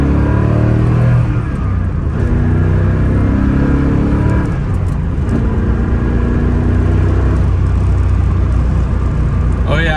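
A C4 Corvette ZR-1 engine rumbles steadily while driving, a loud continuous low drone with rising and falling revs heard from inside the car throughout.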